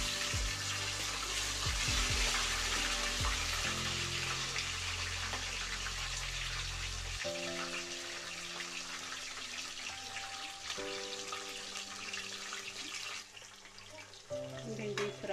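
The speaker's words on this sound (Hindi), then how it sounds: "भिंडी फ्राई हो रही है" Okra pieces frying in oil in a pan for masala bhindi give a continuous crackling sizzle close by, layered over background music that shifts tone partway through.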